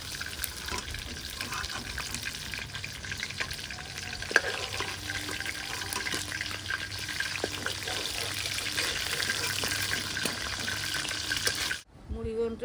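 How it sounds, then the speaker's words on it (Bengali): Fish heads fry in hot oil with a dense, steady sizzle and occasional stirring scrapes, close and loud throughout before cutting off abruptly near the end. "মাছের মাথাগুলো ভাজা হয়ে গেছে"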